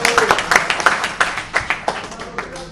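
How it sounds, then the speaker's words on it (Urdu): An audience in a house session applauds Malik sahib with a short burst of clapping, about a dozen distinct close claps in uneven rhythm over a few seconds, with no talk over it. "ملک صاحب کے لیے تالیاں"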